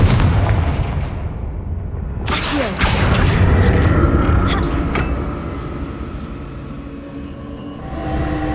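A Confringo blasting spell goes off in the fantasy game Hogwarts Legacy, a loud booming burst followed by crackling debris and a long rumbling decay, with no talk over it.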